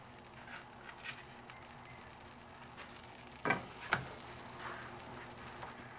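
Lean ground beef cooking in melted butter in a pan gives a quiet, steady sizzle, broken by two sharp spatula scrapes or clatters near the middle, with no one speaking.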